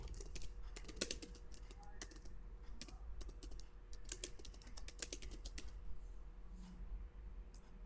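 Computer keyboard keys are tapped in quick irregular bursts of light clicks while text is entered into a presentation slide, close but fairly quiet against a low background hum.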